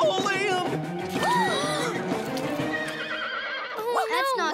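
A cartoon horse whinnies in high, wavering neighs amid busy animated sound, with galloping clip-clop and excited voices running throughout.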